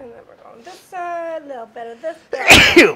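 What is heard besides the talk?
sneeze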